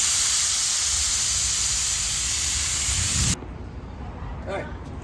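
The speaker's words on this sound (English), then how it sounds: "take the valve core out and let all the air out of the tire" Loud, steady hiss of air rushing out of a tire with its valve core removed, close by, lasting about three seconds before cutting off abruptly to a quieter background.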